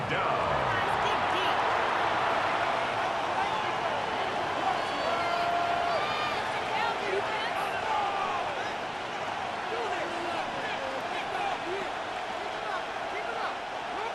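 Stadium crowd noise from the Madden NFL 26 video game during a Seahawks–Eagles wild card simulation, a sustained roar of cheering and whistles that swells then eases slightly, heard alone without talk.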